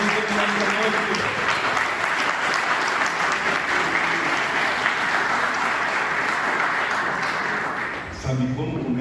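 Church congregation applauding at an evening celebration service, steady dense clapping filling the room for about eight seconds before tapering off, with voices mixed in.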